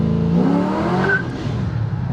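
A Holden VT Berlina's LS1 V8 blips its throttle, a loud, close engine rev that swells and then settles back into a rumbling idle within about two seconds.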